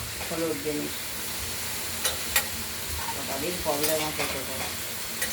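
Thin pumpkin strips frying in oil with mustard seeds and chilli, a steady sizzle with sharp spattering pops and a brief murmur of voices underneath.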